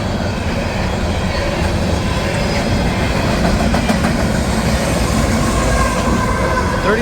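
A CSX coal train with a DPU locomotive rolls steadily past at about 45 mph on the New Castle Subdivision, a loud continuous rumble of railcars with faint clickety-clack and wheel squeal throughout.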